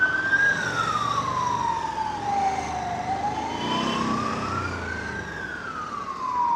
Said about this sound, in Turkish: ambulans geliyor